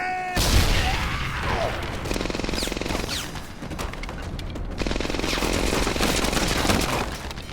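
Grenade blast followed by sustained rapid machine-gun fire in Medal of Honor Airborne, a loud boom at the start giving way to dense rattling volleys that run throughout.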